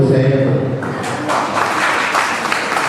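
Applause from an audience at an annual tech meetup rises as a guest speaker is called up, a dense patter of clapping that fills the room and starts mixed with a voice.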